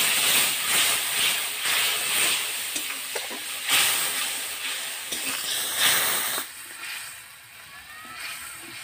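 Water poured into a pan of frying katla fish curry, a loud hissing sizzle with stirring scrapes that settles into a quieter simmer near the end.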